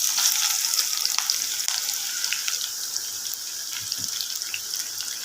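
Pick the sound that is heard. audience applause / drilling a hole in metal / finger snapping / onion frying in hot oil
onion frying in hot oil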